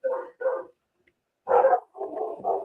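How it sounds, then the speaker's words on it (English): Dogs barking in a series of loud, close barks, two quick ones, a pause, then a sharper bark followed by two more, with no talking over them. "I'll unmute Chuck so we can hear the dogs."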